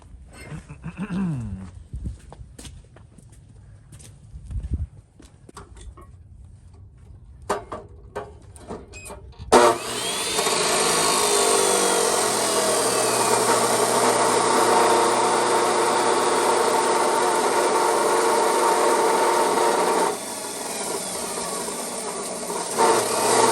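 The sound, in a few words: cutting off part of a K5 Blazer frame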